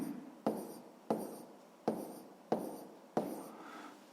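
A pen writes numbers in a school notebook during a sixth-grade maths exercise, with five crisp, evenly spaced scratching strokes close by in a quiet room.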